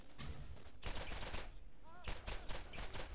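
Rapid bursts of machine-gun fire from the shooter game Borderlands, loud, dense repeated shots with brief pauses between volleys.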